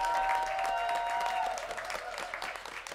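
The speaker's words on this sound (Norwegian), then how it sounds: "En varm applaus til Ruben Marius Jonsen." Warm applause from a concert audience greets the evening's bandleader, Ruben Marius Jonsen, a steady wash of clapping with a sustained musical tone ringing over the first half before the clapping carries on alone and slightly thinner.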